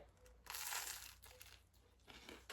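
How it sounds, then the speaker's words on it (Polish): Crunchy breakfast food being chewed up close, a few crackly crunching bursts with short pauses between bites, quiet and without talking. "posłuchajcie tylko jak to chrupie"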